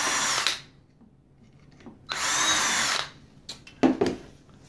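Power drill boring holes into fairly soft material to mount an encoder on an Exploradome observatory; two sustained bursts of drilling, close and loud, separated by quiet gaps, then a few short clicks and taps.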